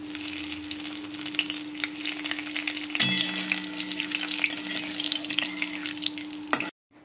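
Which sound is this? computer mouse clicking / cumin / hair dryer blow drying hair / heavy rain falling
cumin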